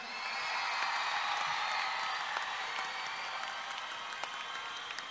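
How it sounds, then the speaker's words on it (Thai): Studio audience claps and cheers steadily for 25 contestants on a Thai singing competition show, a dense sustained round of applause with scattered whoops throughout. "ขอเสียงเป็นกำลังใจให้นักกระฝันทั้ง25คนดังๆหน่อยได้ไหมครับ"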